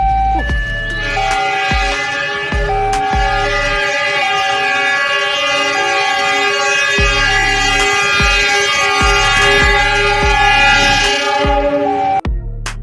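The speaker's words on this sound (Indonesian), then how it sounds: "Masinis pun sampai membunyikan suara klakson panjang lantaran melihat aksi kedua sopir bus tersebut" A train horn sounds a long, loud, steady blast at a railway level crossing, holding its chord for many seconds with a brief break near the start and a few pulses.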